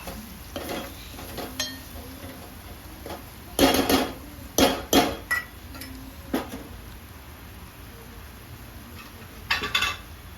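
Spices with turmeric are stirred in a cooking pan for chicken curry, a metal spoon scraping and clinking against the pan in scattered bursts, close by, over a faint sizzle with quiet gaps.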